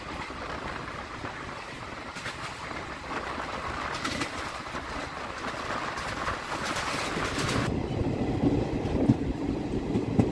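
The Hazarduari Express, train 13113 on the Kolkata–Lalgola line, runs through a skipped station, a steady rattling rumble with clattering bursts and a shift in tone partway, while a pigeon coos nearby.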